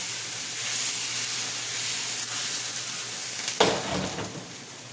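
Fish sauce poured into a pan of sizzling stir-fried fish and mixed vegetables, a steady loud frying hiss with a sudden sharper burst of sizzle near the end as the liquid hits the hot pan.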